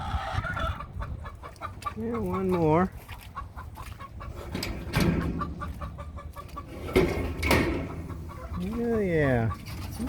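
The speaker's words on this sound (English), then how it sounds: "There's a hen in there." Hens cluck and a rooster crows inside a chicken coop during rainy-weather feeding, the calls near and repeated, with brief speech from a person in between.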